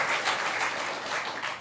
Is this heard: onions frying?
no